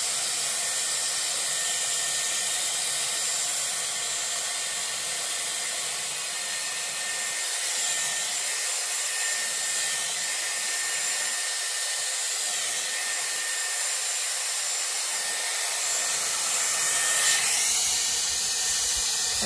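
Close, steady whooshing hiss of a Dyson Airwrap round brush blow-drying hair on medium heat, running continuously without pause.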